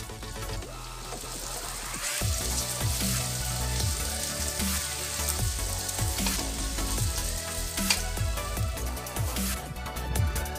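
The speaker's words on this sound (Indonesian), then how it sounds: "Ini bawang merah ditumis duluan biar apa sampai layu," Shallots sautéing in a pan for oseng bunga bawang, a steady loud sizzle and crackle of frying oil with occasional stirring scrapes, continuous throughout with no talking.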